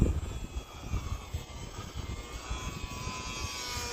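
An E-flite UMX Cessna 182 RC plane flies overhead outdoors, its small electric motor giving a thin, steady whine at moderate distance that holds level for a few seconds without voices.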